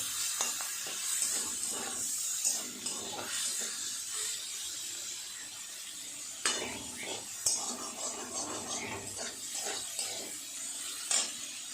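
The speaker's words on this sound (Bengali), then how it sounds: "চিংড়ি মাছ ভাজা হয়ে গেছে, তুলে নেব।" Shrimp fry in a pan with a faint, steady sizzle, while repeated utensil clinks and stirring scrapes sound close by and a low voice murmurs now and then.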